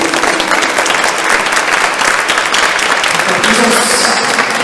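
Audience applause at the close of a lecture on the Venerable Jérôme Lejeune, a dense, steady clapping from a seated crowd filling the room for several seconds at an even level.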